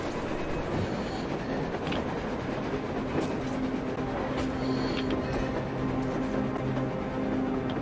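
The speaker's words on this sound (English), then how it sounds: "A train! A damn train on the surface!" A train rolls past on the surface in the video game Metro Exodus, a loud, continuous rumble with clattering wheels and faint metallic squeals, no voices over it.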